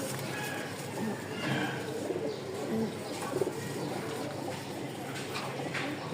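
White Baghdadi pigeons coo repeatedly in a loft in Mirpur, Dhaka, soft throaty calls overlapping from several birds at moderate distance, with faint chirps and a background murmur.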